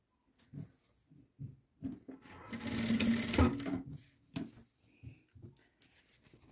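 A sewing machine stitches a children's cropped top, running in one steady whirring burst of a little over a second, with soft fabric handling and brief taps before and after.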